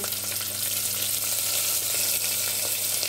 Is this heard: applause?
no